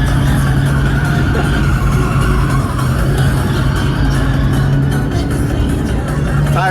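Nissan Sentra B13 car driving on the road with a modified suspension, steady loud engine and road rumble throughout, close and continuous.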